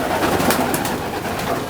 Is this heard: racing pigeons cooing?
yes